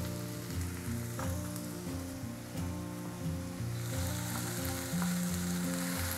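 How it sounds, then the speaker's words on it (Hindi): Onions fry with ginger garlic paste in a pan for restaurant-style chicken tikka masala gravy. A soft, continuous sizzle hisses throughout over a low tonal hum, with no talking. "अब मैं डालूंगी इसके अंदर 1 चम्मच अदरक लहसुन का पेस्ट"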